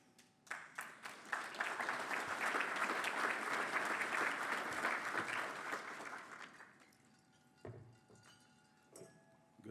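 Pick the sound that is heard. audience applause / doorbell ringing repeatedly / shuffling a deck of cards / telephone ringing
audience applause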